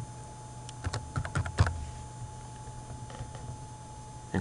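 Someone types a name on a computer keyboard while editing an extension's display name on a Toshiba IPedge phone system, a quick burst of close key clicks followed by a few scattered taps over a low hum.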